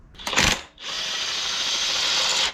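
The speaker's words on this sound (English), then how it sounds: "I think we'll go ahead and remove this crank bolt" A power tool loosens a crank bolt during a Nissan 300ZX engine swap, giving a short burst followed by a steady, loud whirring buzz for about two seconds, close up with no speech.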